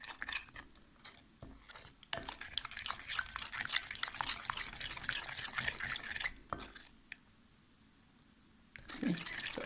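A spoon scraping and clinking around a bowl as honey, oil and syrup are stirred together, a close, steady, sticky churning that stops briefly near the end before starting again.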